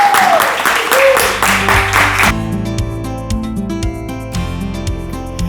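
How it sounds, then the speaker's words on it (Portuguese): A room of listeners at an informal café-style talk gives applause for Zé Reis, a burst of clapping for about two seconds before music with a steady beat takes over. "Aplausos para o Zé Reis."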